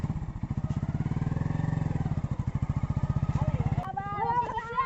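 A motorcycle engine idles close by with a steady, throbbing pulse for most of the clip, then cuts out near the end as voices take over; speech is present around it.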